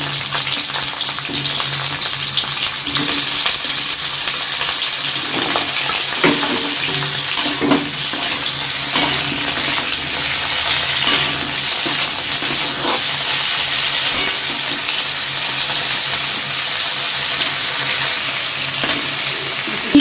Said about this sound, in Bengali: দিয়ে আমি ভাপানো ফুলকপিটা আগে দিয়ে দেবো দিয়ে ভেজে নেবো